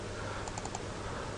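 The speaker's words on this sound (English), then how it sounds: "You can keep typing" Computer keyboard typing, a few quick soft keystrokes in a short burst against a steady room hiss, with no voices.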